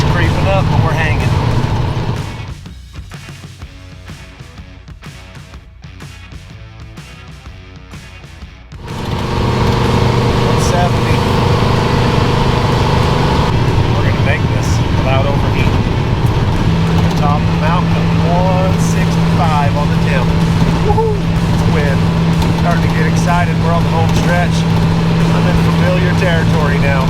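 An old barn-find car engine drones steadily as it climbs a steep hill in second gear. The drone runs loud and constant beneath someone talking, with one quieter stretch partway through.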